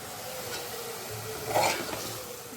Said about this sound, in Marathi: व्यवस्थित मी परतून घेते मोठ्या गॅसवरती